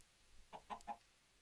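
A chicken in the Minecraft video game clucks three quick soft times in a row, alone against near silence.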